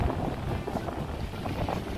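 Strong wind buffeting the microphone on a lakeside boardwalk at Sampaloc Lake, making a continuous low rumble with gusty swells and no voices.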